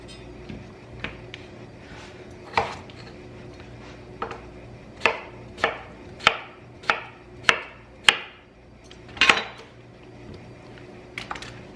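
A knife slices through potatoes on a cutting board in a home kitchen, about a dozen crisp cuts, irregular at first and then in a steady rhythm, each ending in a sharp tap on the board, close and clear without talk.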